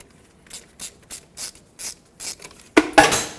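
A hand wrench ratchets and rubs on the 15mm brake hose banjo bolt at a Ford F-150 front caliper, a series of short, close, even scraping clicks ending in two louder, harsher grinding turns.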